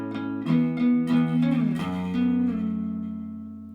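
A clean electric guitar plays a short tapped riff, several quick legato notes flowing into one another before a final note rings out and fades.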